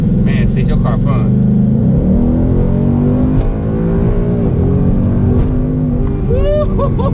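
A Ford Mustang GT 5.0 V8 engine revs and drones loudly and steadily with a deep rumble while accelerating, while people talk over it.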